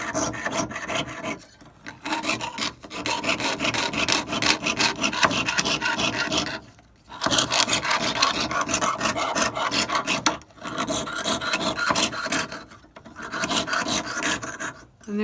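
A jeweler's saw cuts through metal in steady rasping back-and-forth strokes, close and loud, with brief pauses between runs of sawing and no talking.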